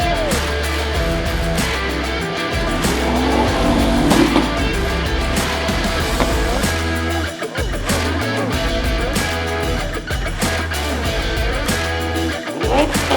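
A Porsche 911 Turbo S sports car drives close by, its steady engine drone rumbling loudly and continuously, with brief dips in level and faint voices in the background.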